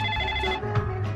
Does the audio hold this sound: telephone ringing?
yes